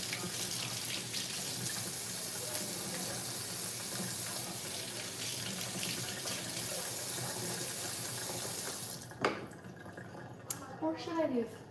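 Kitchen tap running steadily into a sink while food is rinsed, a continuous close hiss of water that stops abruptly near the end, followed by a few small clinks and drips.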